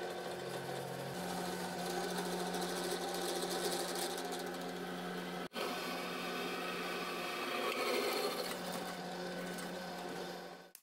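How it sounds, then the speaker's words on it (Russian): Drill fitted to a homemade angle grinder attachment boring an 8 mm hole through the centre of a part, a steady, loud mechanical whine running continuously with one brief dropout partway through, no voices. "Теперь вот здесь по центру сейчас сделаем отверстие на 8 мм."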